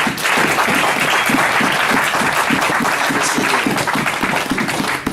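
A church congregation applauds to acclaim the Lord, a dense, sustained burst of many hands clapping together, loud and close, holding steady for several seconds before tapering off.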